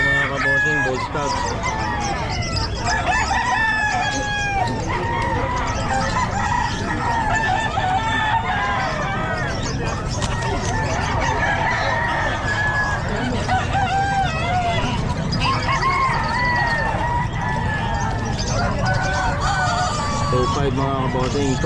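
Sweater-breed gamefowl roosters crow repeatedly and loudly at a busy pet market, the calls overlapping with clucking and steady crowd noise, while people talk nearby.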